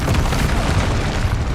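An Incendio fire spell in Hogwarts Legacy, a loud, sustained roaring whoosh of flame with heavy low rumble throughout.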